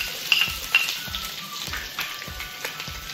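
Capsicum sizzles as it is stir-fried with green chili in a pan for Manchurian fried rice, a close, steady crackling hiss punctuated by regular spatula scrapes and taps about every half second.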